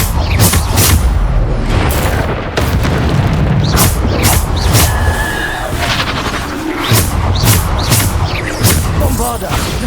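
Bombarda spell explosions in Hogwarts Legacy combat land as a rapid series of loud, heavy booms and bursts, one after another, with occasional shouted voices mixed in.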